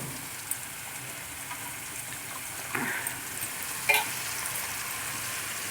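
Washed, squeezed onion slices fry in hot oil with a steady low sizzle and a couple of brief spatters or clinks, close by and without talk.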